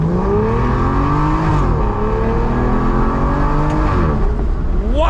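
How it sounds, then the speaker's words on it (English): An Aston Martin DB9 engine revving hard with the windows down, a loud, close, continuous roar climbing in pitch, then dipping and climbing again through gear changes on Miami roads. "But with the windows down, listen to this thing."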